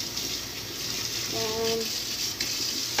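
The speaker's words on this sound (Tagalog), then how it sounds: "hugas tayo ng plato" Tap water runs steadily into a sink while plates are washed by hand, with a very hot stream. The flow holds as a constant broad rush throughout, with a brief faint tonal squeak near the middle.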